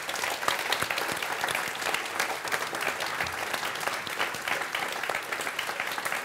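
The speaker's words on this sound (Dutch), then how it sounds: "Mag ik een hartelijk applaus voor Dionne Staks." A studio audience claps warmly for television presenter Dionne Stax, a dense, even wash of applause held steady throughout.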